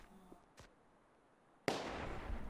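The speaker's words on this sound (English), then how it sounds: "Gunshots!" Gunshots in the video game Fortnite: a faint early crack, then a sudden sharp loud burst followed by sustained crackling noise.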